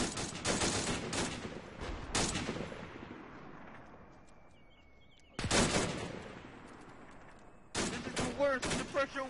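Bren light machine gun firing from the tracks in a WWII Arma mod battle, with sharp loud bursts at the start, a quieter gap, then further bursts, each trailing off in echoing decay.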